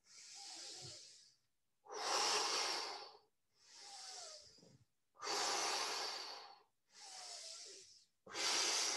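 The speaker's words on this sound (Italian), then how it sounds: "Fuori l'aria, ritorno." Rhythmic, breathy exhalations during a dynamic Pilates mat exercise, six forceful outward breaths in a steady cycle, each about a second long with short gaps between, close and fairly loud with no talking.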